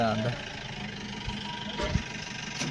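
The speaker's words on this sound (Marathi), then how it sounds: "ट्रॅक्टर जात आहे आता वावरात खड्डे करायला" A tractor engine rumbles steadily in a farm field as it heads out to dig pits, a low continuous drone beneath people talking nearby.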